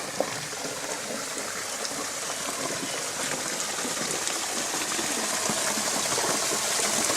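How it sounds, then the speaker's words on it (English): Steady rushing of water, like a small stream spilling over a little drop, broadband and continuous, gradually swelling slightly louder. "A little waterfall."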